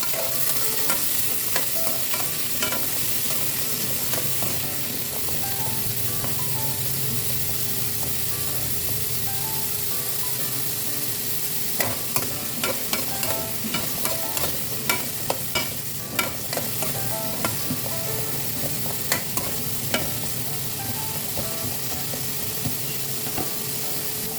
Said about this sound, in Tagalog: Igisa na natin ito guys